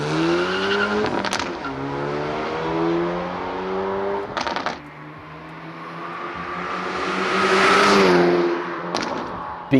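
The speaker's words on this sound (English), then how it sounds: "here is the i30N Fastback going around a track" A manual Hyundai i30 N Fastback without a particulate filter laps a track, its exhaust rising and falling through the gears with sharp cracks at each shift and a loud swell near the end.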